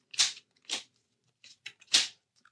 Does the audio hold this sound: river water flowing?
no